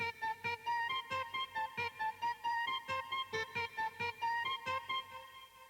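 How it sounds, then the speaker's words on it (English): Arturia Mellotron plugin on its Harpsy preset plays a bright, harpsichord-like keyboard line in a steady run of plucked chords and notes, close and fairly loud, with no talking. "Next up is the Mellotron"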